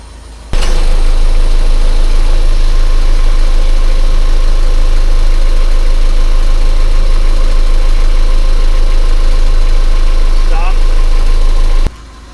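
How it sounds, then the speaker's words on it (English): A sailboat's motor starts abruptly and runs at a steady idle, a loud, continuous low rumble with even vibration that holds for about eleven seconds before cutting off sharply. "go ahead and start the motor"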